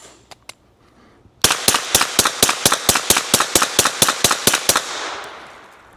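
Rapid string of about fifteen sharp, loud shots from a suppressed 9mm firing 147-grain jacketed hollow points through a Silencer Central Banish 9K, evenly spaced after two faint early pops, then a fading outdoor echo.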